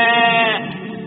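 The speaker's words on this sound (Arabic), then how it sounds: "مأمأة الخروف" A single sheep bleats once, loud and close, in a short wavering cry that fades out.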